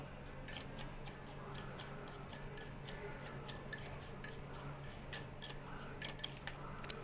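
A spoon stirring sugar and baking soda together in a small bowl for a homemade whitening cream, giving light repeated clinks and scrapes against the dish, fairly faint and steady with no talking.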